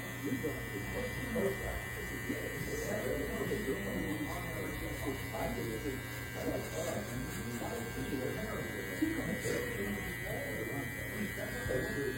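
A Go model hair clipper runs steadily without turbo mode, fitted with a chunk blade, giving a continuous close electric buzz for the whole stretch while a voice talks over it.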